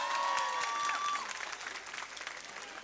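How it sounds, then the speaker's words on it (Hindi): An audience at the Pakistan Literature Festival bursts into warm applause, loud at first and then thinning into scattered claps as it tapers off, with a faint voice briefly audible within it. "सैयद अली शाहरुख के लिए बहुत सी तालियां होनी चाहिए।"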